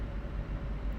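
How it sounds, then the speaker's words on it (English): A Scania truck diesel engine in Euro Truck Simulator 2 holds a steady, loud low rumble with no break, heavy in the bass and even throughout. "Now that I've driven this Scania, the engine sounds a lot better than the Volvo."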